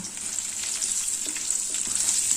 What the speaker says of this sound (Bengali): এবার ওই তেলে সিদ্ধ করে নেওয়া কচুটাকে ভেজে নেব